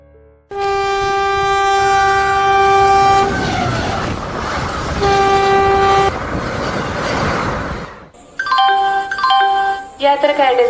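The 16306 Kannur–Ernakulam Intercity Express pulls in with loud, near horn blasts: a long sustained blare, a second shorter one, then a burst of quick toots, all over rumbling train noise.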